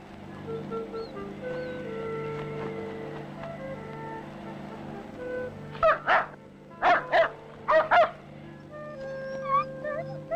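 A dog barks in a short series of sharp, loud barks near the end, after a quieter stretch of low background sound and faint music-like tones.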